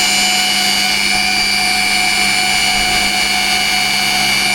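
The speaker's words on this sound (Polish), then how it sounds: "Wiertarka magnetyczna to jest super rzecz." A magnetic drill bores through a steel wheel rim, producing a loud, constant motor whine with steady tonal hum and metallic grinding that never lets up, close up and without voices.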